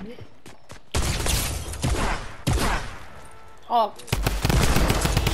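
Rapid Fortnite gunfire erupts in several loud bursts of automatic shots, separated by short gaps, with a brief voice heard between volleys.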